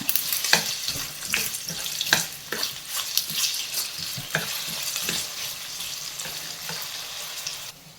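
Potato pieces frying in hot oil for a Spanish omelette, a dense close sizzle with repeated sharp stirring scrapes through the first half, then a steadier hiss, no voices.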